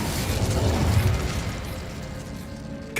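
Incendio fire spell cast in Hogwarts Legacy, a rushing fiery burst with a low rumbling whoosh that swells and then tails off over a few seconds, heard alone.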